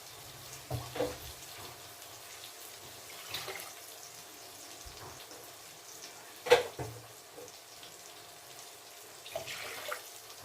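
Water pouring and splashing into a pot of rice for prawn biryani in a few intermittent bursts, fairly quiet and close, with soft clinks between pours.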